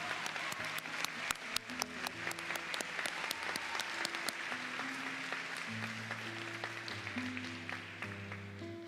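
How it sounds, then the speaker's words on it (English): An audience at a college graduation ceremony applauds the visual arts graduates with sustained, moderately distant clapping, crisp individual claps over a steady wash, while low sustained music tones play underneath. "Let's applaud our graduates from the Visual Arts program."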